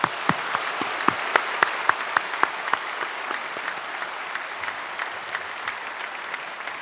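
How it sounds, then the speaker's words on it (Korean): A church congregation at a special early-morning service claps together, brisk sharp hand claps sounding close at first, then settling into a steady, softer round of applause. "하나님께 영광의 박수 올려드리겠습니다"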